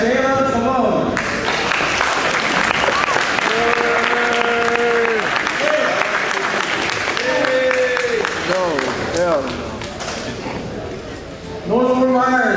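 An audience applauds steadily for students and coaches at a school team recognition event, with loud continuous clapping and a voice speaking over it at times.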